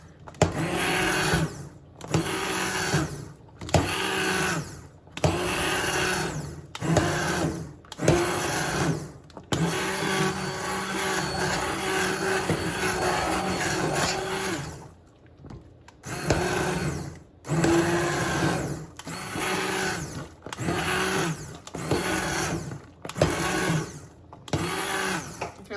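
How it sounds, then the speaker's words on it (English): An immersion blender whirs through butternut squash soup in loud repeated bursts, pulsing on and off with short pauses between, then running steadily for several seconds before the pulsing resumes. "it's called a submergent blender, and just does like that"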